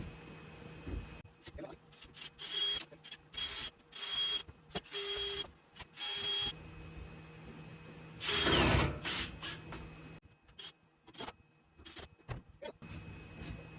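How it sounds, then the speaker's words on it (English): A power drill bores into a metal folding chair in short repeated bursts, stopping and starting, with one longer high whine; nearby and fairly loud. "is just drill me a hole right in the bottom"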